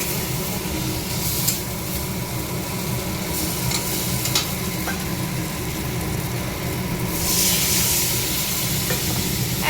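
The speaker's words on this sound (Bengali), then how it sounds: "মাছের ঝোলটা করার জন্য মশলাটাকে ভেজে নিচ্ছি" Spice paste for a koi fish curry fries and sizzles in a pan, a steady close hiss with scraping stirs and a louder burst of sizzling near the end.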